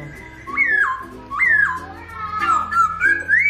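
A caged laughingthrush sings a loud, bright series of rising and falling whistled phrases, repeated several times close by with a little background chatter.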